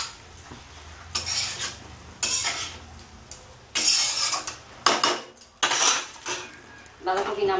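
Cooked cabbage being lifted out of a pan in a Bengali kitchen, with bursts of metal utensils clinking and scraping against the pan in uneven strokes, close and moderately loud, with faint background voices.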